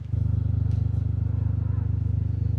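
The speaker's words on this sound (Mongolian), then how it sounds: "Яндангийн дуу шүү." A car engine idles close by with a deep, throbbing exhaust note, pulsing in a steady rapid rhythm throughout.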